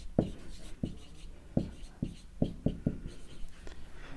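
Pen or marker strokes writing a math symbol on a board during a sets lecture, heard as about eight short taps and scratches in an irregular rhythm, close and moderately clear, with no talking.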